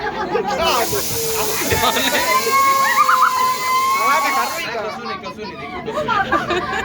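A city water fountain splashes in a continuous rushing hiss, with voices chattering nearby over the spray.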